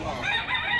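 A blue-legged fighting rooster, about a year old, gives a single short crow heard close and loud, filling the whole brief moment without any talk over it.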